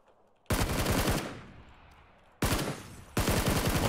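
Automatic gunfire in the battle royale game PUBG: three long, dense bursts of rapid shots, loud and close, separated by brief pauses with a fading echo between them.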